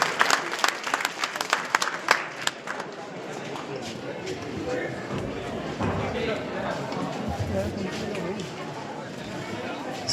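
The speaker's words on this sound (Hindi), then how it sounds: "तो जोरदार तालियों से स्वागत कीजिए" Audience applause welcoming a speaker at a Khortha language event in Jharkhand, loud clapping at first that fades into a softer murmuring crowd with voices talking underneath.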